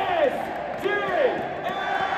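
Crowd at a football club event in France cheers and yells for a performer, with rising shouts and whoops over a dense roar, loud and close.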